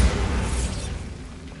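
Bombarda spell explosion in Hogwarts Legacy, a loud, broad boom hitting at once and then rumbling and decaying over about a second and a half.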